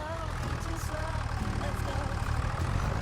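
A tractor engine idles in Farming Simulator 25, a steady low rumbling drone held at an even level for the whole moment, with a voice faintly present alongside.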